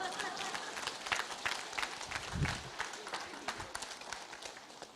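Indoor audience clapping sounds as scattered, uneven claps at a fairly faint level, thinning and tapering out, with some voices mixed in.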